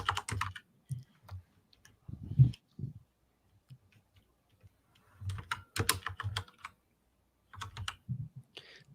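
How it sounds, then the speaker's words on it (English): Typing on a loud gaming keyboard, with bursts of clacky keystrokes separated by quiet gaps, close and fairly faint. "your keyboard is loud"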